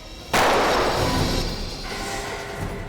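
Gunshot in a CID television crime drama episode: one sudden loud crack that booms and rings out, then decays into a lingering reverberant tail.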